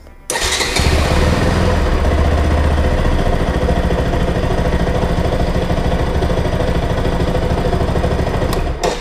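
A Bajaj Pulsar NS200 motorcycle engine cranks and catches, then settles into a loud, steady idle close by with no talk over it, cutting off just before the end.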